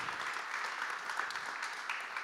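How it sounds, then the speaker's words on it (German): Audience applause at a panel discussion on the situation of honeybees: a steady, dense round of clapping from a crowd filling the room at even loudness throughout. "Ich finde, dies ist jetzt mal der Moment für einen Applaus"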